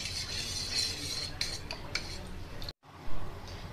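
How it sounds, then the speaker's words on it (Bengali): Slaked lime is stirred into water in a large pot, with clinking and scraping of a utensil against the pot in quick irregular strokes, close up, broken by a brief silence near the end. "চুনটা আমি জলের সঙ্গে খুব ভালো করে গুলে নিয়েছি"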